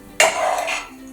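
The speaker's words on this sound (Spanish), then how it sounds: "Lo vamos a sacar ya del sartén" Cooked liver, fried with onion and garlic, is lifted out of a frying pan and set back onto a plate: a sudden close clatter and scrape of utensil on pan that trails off within about a second.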